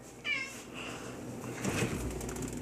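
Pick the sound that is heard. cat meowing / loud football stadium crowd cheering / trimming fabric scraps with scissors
cat meowing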